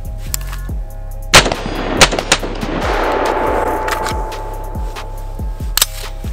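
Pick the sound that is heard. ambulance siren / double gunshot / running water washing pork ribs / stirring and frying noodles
double gunshot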